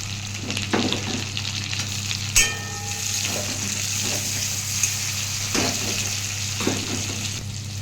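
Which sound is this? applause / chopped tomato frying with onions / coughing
chopped tomato frying with onions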